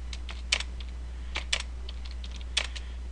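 Light clicking of computer keys in short irregular bursts, close and fairly soft, over a steady low hum with no talking.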